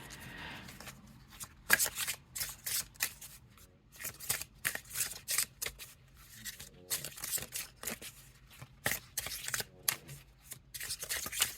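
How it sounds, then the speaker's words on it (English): Rapid bursts of newly made custom oracle playing cards being shuffled, riffled repeatedly in quick crisp flurries with brief pauses between, close by and fairly quiet. "They shuffle alright, they shuffle well."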